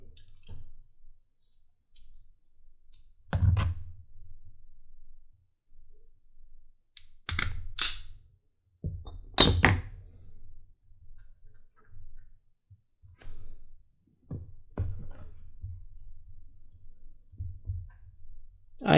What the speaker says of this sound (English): I'm just going to put them together with a stapler that I have here.